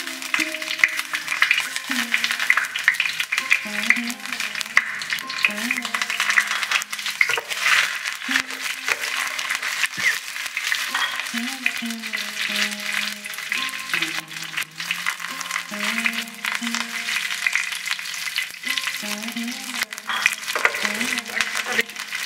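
Curry leaves frying in hot oil for masala dosa with sambar dal, a steady crackling sizzle running throughout with occasional utensil clinks, while someone talks over it in the background.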